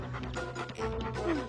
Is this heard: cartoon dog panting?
yes